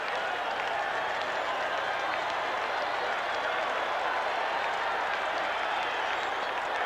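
A large stadium crowd at a 1990 Major League Baseball game roars and applauds for a third-strike strikeout, a dense, steady wall of cheering and clapping that holds loud and unbroken throughout.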